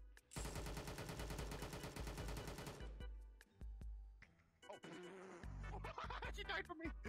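Rapid automatic gunfire rattles loudly in a VRChat prison-escape game, a dense burst for a few seconds, then scattered single shots and clatter, with cries and voices in the mix.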